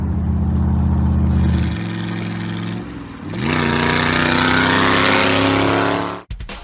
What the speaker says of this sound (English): Driving on the highway in this thing is pretty hilarious